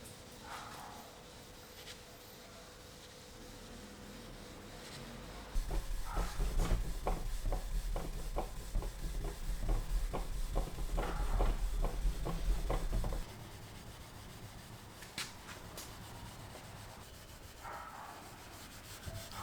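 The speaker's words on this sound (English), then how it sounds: "to knock back the finish with 4/0 steel wool" A mid-century modern Stingray coffee table's finish is lightly rubbed with 4/0 steel wool for a semi-gloss sheen, giving close, scratchy back-and-forth strokes that grow louder and more rhythmic through the middle stretch before easing off.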